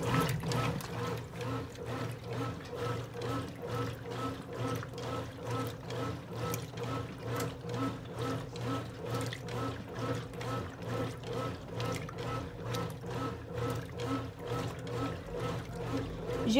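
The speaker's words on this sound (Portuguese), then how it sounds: "Ó, entrou água aqui dentro." Water flows into the drum of a 1993 Brastemp Mondial washing machine with a steady pouring rush and a gentle, regular pulsing throughout, close by and fairly soft.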